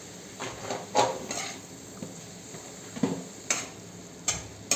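Cabbage with crushed peanuts is stir-fried in a pan, with a faint low sizzle and repeated scraping clinks of a spatula at irregular intervals.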